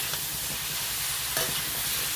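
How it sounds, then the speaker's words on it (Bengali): Chopped vegetables sizzle and fry in a kadai while being stirred, the scraping of each stir audible over a steady, close crackle with no voices. "যতক্ষণে জল থাকবে ততক্ষণ নাড়তে থাকবো আর ভাজতে থাকবো"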